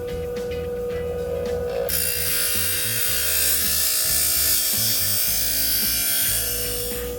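A lawn mower blade being sharpened along its bevel, a steady abrasive grinding or filing rasp running continuously and fairly loud throughout, with a brief change in tone early on.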